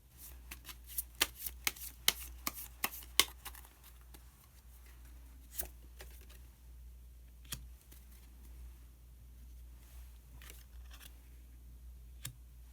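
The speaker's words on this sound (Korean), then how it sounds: "그러면은 카드 한 장을 더 뽑고 이야기 계속 나오도록 하겠습니다." Tarot cards shuffled by hand, a quick run of sharp, close riffling snaps at the start, then quieter scattered clicks and slides as single cards are drawn and laid down, in a quiet room.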